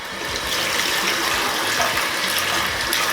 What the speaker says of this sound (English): make sure it's nice, clean water coming out of there